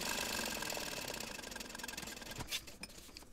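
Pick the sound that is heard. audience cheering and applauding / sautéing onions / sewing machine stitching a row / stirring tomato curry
sewing machine stitching a row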